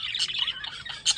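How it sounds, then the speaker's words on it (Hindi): Parrots at a wedding gathering give short, bright squawks and chirps in quick bursts, fairly close and clear with no talking over them. "तोते।"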